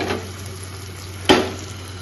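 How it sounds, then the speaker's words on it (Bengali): Battered roti fries in a pan with a steady, close sizzle. A single sharp clink of a utensil against the pan cuts in partway through, and no one speaks. "এখন রুটিটা ভেজে দেবো"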